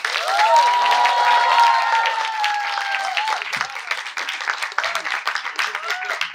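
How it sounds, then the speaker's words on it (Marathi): Audience applause and clapping rise after a student's song at a college of journalism Shiv Jayanti celebration, loud at first and then fading, with a voice heard over the clapping. "जोरदार टाळ्या बंद द्या."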